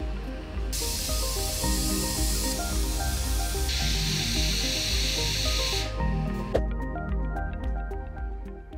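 A glassblower's torch flame at a lampworking bench, hissing in a steady loud rush that cuts out abruptly, then a lower gas roar with faint ticking and dripping sounds, no voices.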